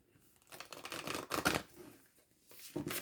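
Oracle cards are shuffled by hand in short papery riffling bursts, close and fairly soft, with brief pauses between them.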